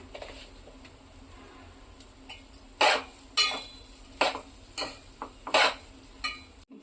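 A spoon scrapes and taps against a pan while egg fried rice is stirred, a series of sharp metallic clinks at irregular intervals over a faint background hum.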